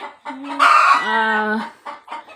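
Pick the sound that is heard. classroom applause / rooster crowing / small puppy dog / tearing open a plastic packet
rooster crowing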